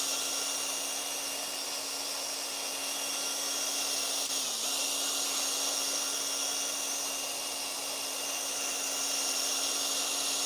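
Power buffer with buffing compound polishing a Yamaha R1 headlight, a continuous steady motor whine and hum running the whole time with one brief dip in pitch midway.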